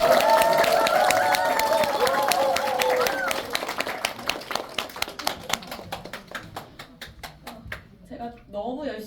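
An audience claps at a company awards gathering, starting as dense applause mixed with voices and then thinning into scattered individual claps that slowly fade out.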